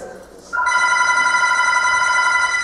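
A telephone rings loudly in a high school stage production of a musical, a bright, sustained electronic bell tone that starts abruptly after a moment of quiet and continues steadily.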